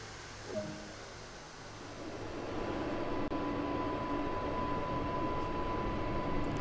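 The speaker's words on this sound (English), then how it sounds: "And that even sounds a lot different. A more modern train." A modern electric train rolls along the Isle of Wight line in Train Sim World, a steady low rumble and drone swelling gradually with a thin whine rising above it.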